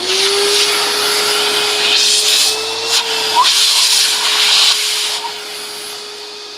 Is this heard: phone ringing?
no